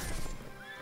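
A horse whinnies briefly amid dense battle noise in the medieval combat game Mount and Blade: Warband, the neigh rising and falling over a constant clamor.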